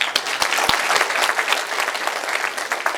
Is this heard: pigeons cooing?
no